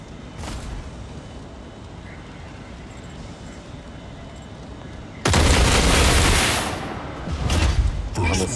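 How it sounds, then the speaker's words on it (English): Javelin weapons firing in the mech combat game Mech Arena, a sudden loud roaring barrage of blasts that bursts in after a quieter stretch of game noise and fades in a few seconds. "we can just go fire the javelins"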